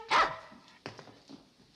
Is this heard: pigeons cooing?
no